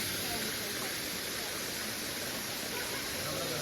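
Steady broadband rush of a warm-water waterfall in a hot Puerto Rico jungle, continuous and fairly close, with no clear voices over it.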